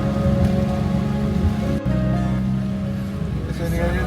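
Heavy rain falls in a steady, dense roar throughout, on a wet, muddy trip toward Bateti Lake in Georgia. A brief break interrupts it, and faint voices can be heard beneath it.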